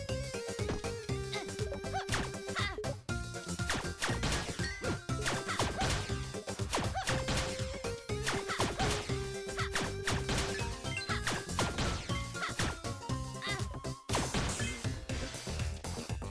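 Golems being smashed in Shantae: Risky's Revenge, with repeated crashing and whacking hits over a dense, continuous backdrop of game music, steady and loud throughout.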